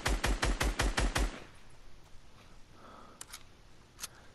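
A gunshot in a building-and-shooting video game: a fast run of about seven loud, sharp shots in quick succession, followed by quieter ambient game noise and a few faint clicks.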